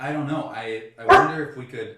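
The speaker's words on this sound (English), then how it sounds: "that was my dog" A pet dog at home lets out a single sharp bark in the middle of a relaxed conversation, the bark cutting loudly through the ongoing talk.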